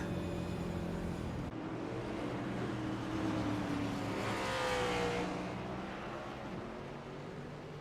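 A race car on an oval track at the Southtona 500 roars at nearly full speed, its engine note swelling as it passes close by and then fading, over a constant background rumble of other cars.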